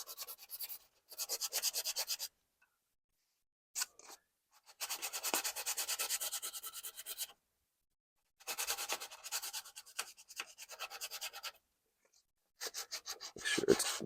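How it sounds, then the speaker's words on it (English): Hand sanding of a mid-century modern mirror frame during repair: close, steady bursts of quick rhythmic rasping strokes, each lasting a couple of seconds and separated by short pauses, with no talking. "I'm going to sand this down"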